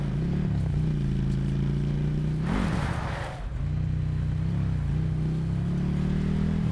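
A vehicle engine in Call of Duty Blackout drones steadily and then rises in a brief revving surge, with a short noisy burst midway before the steady hum resumes, close and continuous with no talk.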